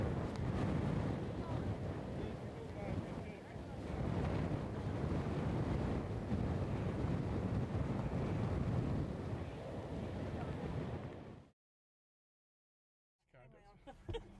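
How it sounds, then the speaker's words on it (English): Strong wind roars and buffets across the Sandwich Harbour coast, a loud, steady rush lasting about eleven seconds before cutting off abruptly, followed by a brief, fainter sound. "it's bloody windy and it's hard to hold the camera still"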